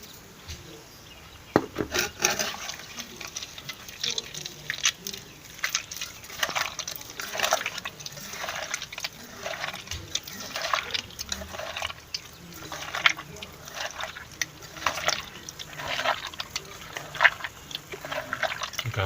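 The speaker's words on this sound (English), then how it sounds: "Step 3. We rinse with salt." Snails being rinsed with salt and water make repeated wet rubbing and scraping sounds, with sloshing liquid and gritty scrubbing in an irregular rhythm, close up.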